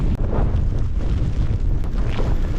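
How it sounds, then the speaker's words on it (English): Strong wind on a Lake District mountain, with sleet, roars and buffets the microphone continuously, a loud, rough rushing with gusts swelling and easing throughout. "it's so windy, it's blowing it about"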